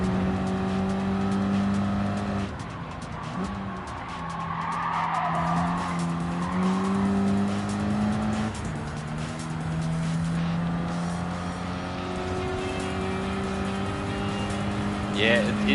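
Race car in Gran Turismo 7, driving a French car: a sustained engine drone with shifting pitch, mixed with squealing, skidding tyres that rise and fall through the run.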